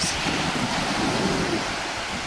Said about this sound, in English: I really just want you to hear the waves in the background